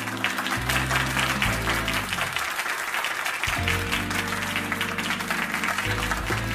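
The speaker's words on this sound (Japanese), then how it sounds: "よろしければ拍手をいただけますでしょうか。" Steady crowd applause fills a bar in Sotenbori in the video game Like a Dragon Gaiden: The Man Who Erased His Name, sustained and fairly loud over low background music.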